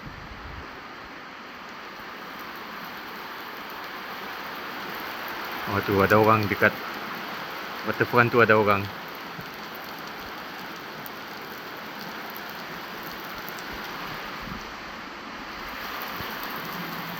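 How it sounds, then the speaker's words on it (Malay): Heavy rain falls steadily over Igan village during a storm and power outage, a dense continuous hiss throughout, with people briefly talking over it partway through. "Inilah uh, hujan lebat di kampung Igan"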